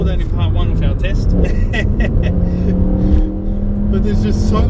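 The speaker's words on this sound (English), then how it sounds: "The sound, the exhaust, the way it growls at you, it's so aggressive, it just wants to bite" A Mercedes C63 AMG's exhaust growls loudly and steadily as the car accelerates, with the engine note holding strong throughout while a person talks over it.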